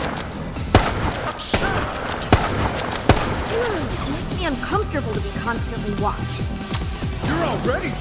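Gunfire aimed at cameras in the game Resident Evil: Resistance: a few sharp, separated shots ring out over a busy game soundscape of thumps and effects, while a voice speaks throughout.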